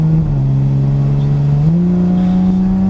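A Porsche Cayman GTS engine revs on throttle, a loud, close, steady drone that dips slightly then climbs in pitch as power comes back on.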